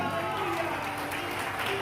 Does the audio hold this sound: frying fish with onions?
no